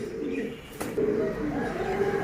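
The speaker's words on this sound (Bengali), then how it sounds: "এটা হচ্ছে আপনার চুহা কবুতর" Chuha pigeons coo in low, soft rolling calls at close range, a couple of short phrases rising over steady background noise, with a brief sharp knock near the middle.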